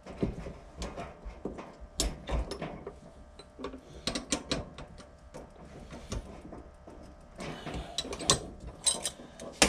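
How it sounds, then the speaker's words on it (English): A vise cranks tight on a steel logging choker cable, giving uneven metallic clicks, clanks and ratcheting knocks in irregular clusters, close up, with no speech. "Let's put this in the vise real quick and tighten it."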